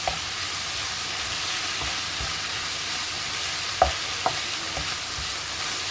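Chicken cooking in a pan for savory cigars, a continuous close sizzle with occasional stirring scrapes and a couple of sharper clacks of the utensil against the pan, no speech.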